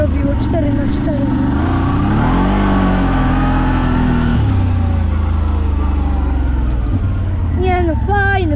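A CF Moto 1000 ATV engine revs and rumbles steadily up close, its pitch rising and falling through several throttle swells, with people talking over it throughout.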